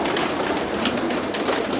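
Dense bird sounds throughout, a loft of about three hundred pigeons cooing and fluttering together as a steady, close flock murmur with no pauses.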